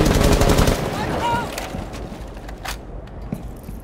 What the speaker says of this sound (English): He wasn't expecting getting blasted by a shot.